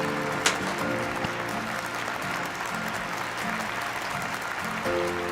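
A festival audience warmly applauds to welcome a group of cadets, a steady, dense patter of many hands clapping at a distance, blended with a low sustained musical tone throughout.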